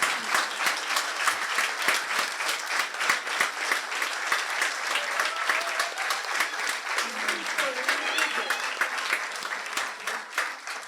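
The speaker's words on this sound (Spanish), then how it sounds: "pueden dar un aplauso fuerte" A crowd claps loudly and continuously, a dense, even wash of applause, with a voice faintly speaking underneath partway through.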